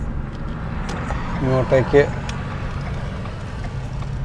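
Cars arrive and pull up at a roadside viewpoint in Red Rock Canyon on the route from Los Angeles to Mammoth, a low steady engine and road rumble with a brief nearer swell, while a person talks throughout.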